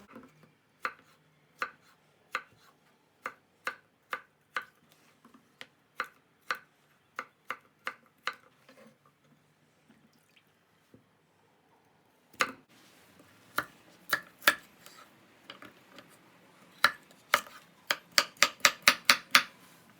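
A knife chops carrots on a board in steady, evenly spaced strokes, pauses briefly, then resumes with a quicker run of chops at the end.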